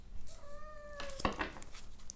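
A cat gives a single drawn-out meow, close and fairly clear, followed by a sharp clatter like dishes or cutlery being handled.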